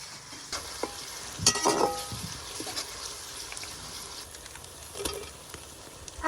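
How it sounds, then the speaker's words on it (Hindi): Chopped fresh coriander, garlic and ginger hit hot oil in a pan in a village mud-house kitchen, giving a steady close sizzle with a few brief stirring scrapes and clatters. "अब मैं डाल रही हूँ सब्ज़ धनिया, लहसुन और अदरक जो कि हमने कूट कर रखे थे।"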